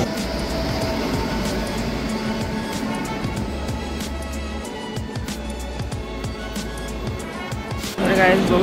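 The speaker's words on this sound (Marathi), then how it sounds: "आणि ट्रेन पण आलेली आहे आपली" Train standing at a station on a trip to Trimbakeshwar, a continuous low rumble and rolling noise with rhythmic thumps, close and steady, under a man's speech.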